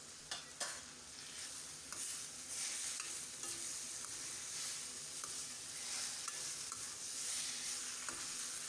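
Egg mixture seasoned with salt and turmeric is stirred in a pan, giving a steady faint scraping and soft sizzle, with a few light utensil clicks throughout and no talking.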